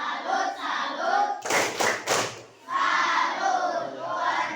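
Classroom of young pupils doing a rhythmic clapping chant, with voices chanting in unison around a short burst of sharp hand claps in the middle, loud and close.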